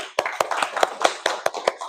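A classroom applauds its group representatives: brief, sharp, even claps in a steady quick rhythm, close and fairly loud, with no talking.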